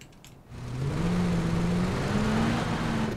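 Motorcycle engine in PlayerUnknown's Battlegrounds, a steady mid-pitched drone that rises and holds as the bike accelerates, continuous and fairly close with no talk.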